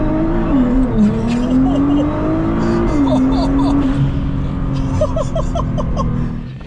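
A Nissan GT-R with traction control off makes a launch-control start, the engine held at high revs then pulling hard through rising gears, loud and close, while people chatter and laugh in the cabin.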